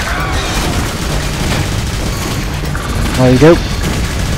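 Gunfire aimed at a boss in the Jericho video game rumbles as muffled, overlapping shots and booms under a man's brief speech, with a short mechanical whine near the end.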